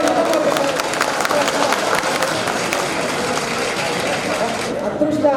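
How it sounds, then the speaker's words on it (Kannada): Loud, sustained applause from an audience at a state-level teacher programme held at a school, a dense steady wash of clapping that continues evenly for several seconds. "ಜೋರಾದ ಚಪ್ಪಾಳೆ."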